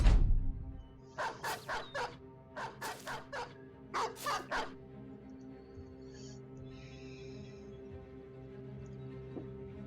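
War dogs in the medieval strategy game Battle Brothers bark in two quick rapid bursts of several sharp barks each, loud and close, then fade into a low ambient game drone.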